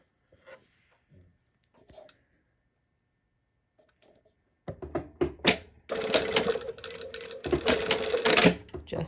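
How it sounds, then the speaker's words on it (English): A sewing machine stitching fabric from a corner to an edge, starting after a few quiet handling taps with a loud, steady rapid whirring run that pauses briefly and resumes. "I'm just going to sew from that corner to that edge"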